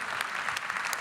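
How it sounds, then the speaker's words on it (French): Steady applause from an audience at a panel discussion on the health system, a dense wash of clapping that holds evenly for the whole moment without voices. "On peut les applaudir."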